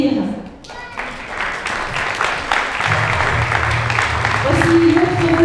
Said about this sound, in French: C'est Sam, Oscar et Arthur que je vous demande d'applaudir.